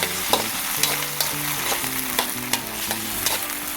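Onions and tomato sauce sizzle in a frying pan while being stirred for beef tongue adobo. A steady frying hiss carries sharp spoon scrapes and taps over soft background music, with no voices.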